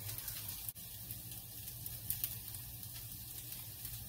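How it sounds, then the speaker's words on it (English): Onions browning in a pan give a steady, quiet sizzle and fry that runs the whole time, with one brief dip and a few tiny crackles, close and gentle with no talk. "the onions are browning"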